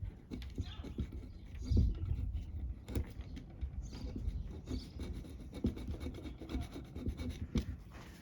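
Repeated scraping and rubbing close by, irregular rasping strokes with light knocks, during work on a 1973 Dodge Sportsman camper rebuild, moderately loud and uneven.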